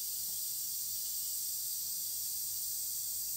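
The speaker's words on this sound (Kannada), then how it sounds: "ಈಗ ಸಾಂಬಾರು ಚೆನ್ನಾಗಿ ಕುದೀತಾ ಇದೆ" Sambar simmering at a rolling boil in a pot, a steady soft hiss of steam and bubbling that stays faint and even throughout, with no voices.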